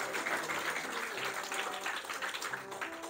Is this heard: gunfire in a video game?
no